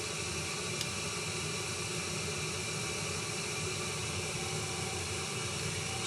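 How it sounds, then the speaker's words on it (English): An electric kettle heats water, giving off a steady broadband rushing hiss with a low rumble that holds constant throughout, moderately quiet and with no voices. "Just waiting for my electric kettle to finish here."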